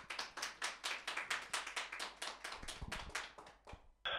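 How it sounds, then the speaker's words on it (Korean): A church worship congregation in Sydney claps to welcome a preacher, with quiet, rhythmic hand claps in a steady beat that end abruptly. "우리 박수로 모시겠습니다."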